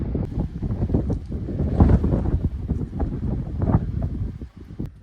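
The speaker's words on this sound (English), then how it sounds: "Sorry for the wind. It's pretty windy out." Gusty wind buffets a microphone outdoors in Gjirokastër, Albania, with loud, rumbling, uneven low-frequency thumps that rise and fall continuously throughout.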